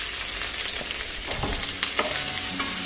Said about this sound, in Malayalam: സവാള ചേർത്ത് ഹൈ ഫ്ലെയിമിൽ വെച്ച് നന്നായി ഇളക്കി കൊടുക്കുക.